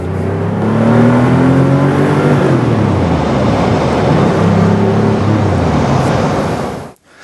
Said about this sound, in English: this surely still feels like a 911, drives like one, and sure as hell sounds like one